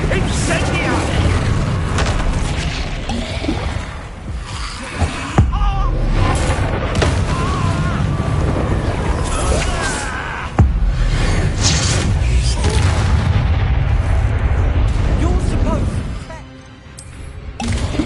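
Incendio fire spell blasts in the Hogwarts Legacy video game: repeated loud booming bursts and crashing impacts amid a dense, busy battle soundscape with roaring swells, lasting throughout before a brief dip near the end.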